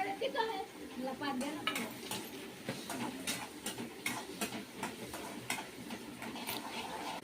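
Tomatoes frying in a pan with tur beans, a soft sizzle under rhythmic scraping and clinking of a spatula against the pan, close but fairly quiet.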